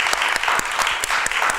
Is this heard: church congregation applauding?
yes